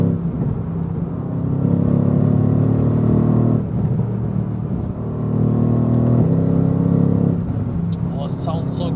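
A Mercedes-AMG GT R with a 585 hp engine cruising on the Autobahn, its steady loud drone and rumble filling the cabin, easing and swelling again between shifts, with a person speaking over it.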